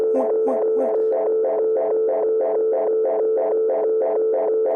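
Audio feedback looping back through a distortion effect in Ableton, a buzzing tone pulsing in an even rapid rhythm, loud and constant, with a few brighter stutters at the start.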